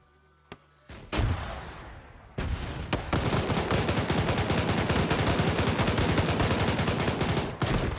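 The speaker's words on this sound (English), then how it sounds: "This guy's just blind firing over here." AI soldiers blind firing in an Arma 3 battle: after a few isolated shots, loud, dense and sustained gunfire with rapid automatic bursts and booming artillery-like blasts, continuous and close, with no talk.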